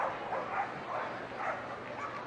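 Dogs bark and yip excitedly during a team flyball semi-final at Crufts 2014. The barking is dense and overlapping in a large indoor hall, with rhythmic surges over a constant crowd hum.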